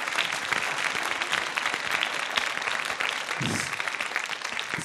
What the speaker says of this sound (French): Alors, applaudissez très fort.